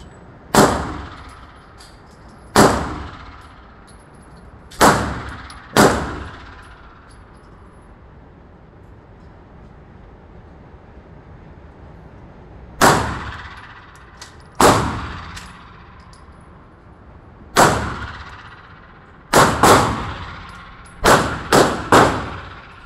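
A Smith and Wesson 380 EZ pistol fired at a shooting range, loud sharp single reports spaced by pauses, ending in a quicker cluster of shots, close with some echo.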